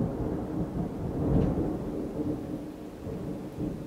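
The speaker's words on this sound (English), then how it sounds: "It was thunder." Rolling thunder rumbles low and steady, swelling slightly in the middle before easing, with a faint wash like rain behind it and no voices.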